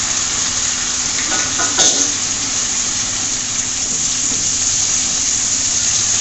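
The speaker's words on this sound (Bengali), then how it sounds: "মশলাটা সুন্দরভাবে আমি কষাবো অনেকক্ষণ সময় নিয়ে।" Ground chili, cumin, coriander and salt sizzle in a hot pan for a rui fish roe curry, a steady close frying hiss with a brief clink of stirring partway through.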